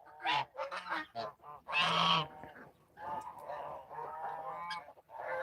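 Guinea fowl, a mature adult among younger birds, calling in a series of loud harsh honking cries with short gaps, close by and with no talk over them.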